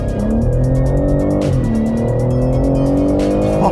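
A 2021 BMW M3 Competition with its twin-turbo straight-six accelerates hard, a loud, continuous engine roar climbing steadily in pitch through the gears, with a brief shift break partway through and no talking.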